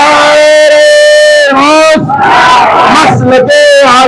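At a madrasa gathering for the Urs of Khawaja Gareeb Nawaz, a large crowd loudly chants the Nara-e-Takbeer and Nara-e-Risalat slogans in unison, voices swelling in repeated full-throated bursts.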